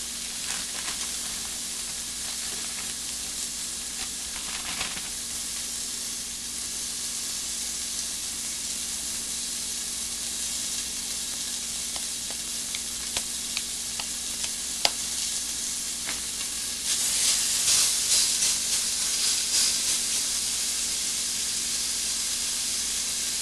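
Hamburger patties frying in a pan give a steady, even sizzle that holds for the whole stretch, with occasional small pops and crackles and a slightly louder hiss near the end, no voices.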